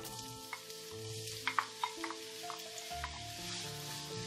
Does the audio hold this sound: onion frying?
yes